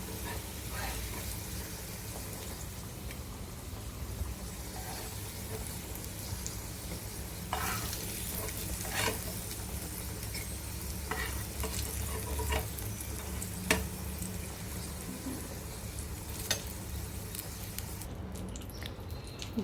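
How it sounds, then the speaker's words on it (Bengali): Slices of elephant foot yam fry in a pan with a continuous soft sizzle, broken by occasional sharp pops and the scrape and clatter of a utensil turning the pieces. "তো দেখো, এবার ভাজাটা কমপ্লিট হয়ে গেছে। এবার আমি তুলে নেব।"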